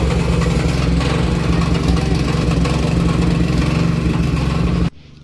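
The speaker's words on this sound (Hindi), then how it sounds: "अब बाहर निकाल दिया ट्रैक्टर।" A tractor engine idles loudly and steadily up close on a hillside rice farm, a throbbing low rumble that runs unbroken before cutting off abruptly near the end.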